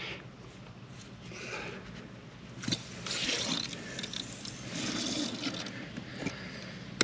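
A buried water line valve is cranked open by hand, giving a series of close metallic ratcheting clicks and scraping grinds with a few sharp knocks, over quiet outdoor background.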